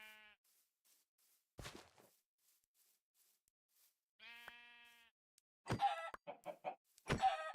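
Chickens in the Minecraft GregTech: New Horizons modpack, a few separate bursts of clucking and squawking calls with quiet gaps between them and a sharp pair of louder clucks at the end, with no speech.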